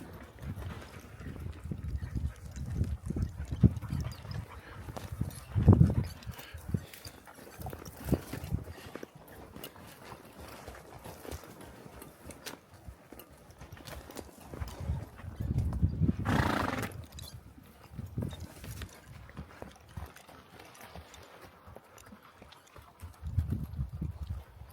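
A horse is ridden along the top of a small rim in the Gila Wilderness. Its hooves clop unevenly at a moderate distance, mixed with gusts of wind noise, and a louder burst in the middle may be a whinny.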